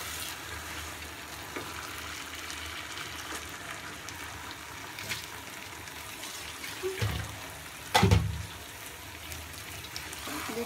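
About 1.5 kg of desi chicken meat fries in a hot pan with a steady sizzle, broken by a few louder thumps and scrapes as it is stirred, with no talking.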